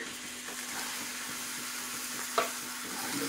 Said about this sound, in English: Now we'll quickly put all the vegetables in there. Just over the heat.